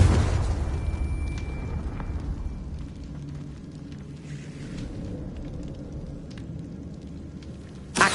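A Confringo blasting spell explodes in Hogwarts Legacy with a loud, booming burst that fades into a long rumbling, crackling tail. A sharp thud lands right at the end.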